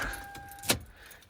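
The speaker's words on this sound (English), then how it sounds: "I'm gonna take this key out so that it is not" Key for a Lexus LS400 jangling briefly as it is pulled from the ignition, one short bright metallic rattle close by, with a faint steady chime tone in the cabin before it.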